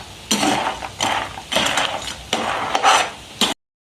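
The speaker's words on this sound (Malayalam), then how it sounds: "കുറച്ച് സമയം നമുക്കിത് പറ്റുന്ന വരെ ഇളക്കി കൊടുക്കാം" A thickening jaggery mixture for sharkkara varatti is stirred in a pan, making loud, rhythmic scraping and clanking strokes that repeat several times before stopping abruptly, with no talking.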